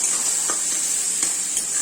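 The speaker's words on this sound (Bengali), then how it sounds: "এবার এটাকে ভালো করে নেড়ে চেড়ে" Spices with salt and turmeric being stirred in a hot pan, a steady faint sizzle with a few soft scraping strokes, no talking.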